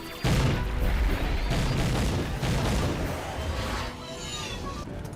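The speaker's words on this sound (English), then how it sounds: "Those things are firing at us!" Weapons fire strikes a spaceship in a Stargate SG-1 space battle, heard as a loud, continuous barrage of heavy booming blasts and crashes with voices mixed in.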